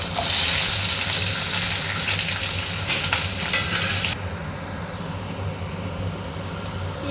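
Onions, curry leaves and green chillies frying in a pan, a loud, bright sizzle with stirring scrapes that drops to a softer, steady crackle about halfway through.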